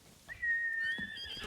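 A single horse whinny from the video game Ghost of Tsushima, a high, wavering neigh lasting about a second, fairly clear over soft background sounds.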